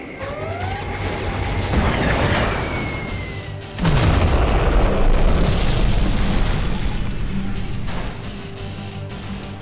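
Heavy booming explosions from a video game aerial attack run roll through the battlefield, one loud blast rising partway through and then a sustained rumbling roar of detonations and debris that slowly fades.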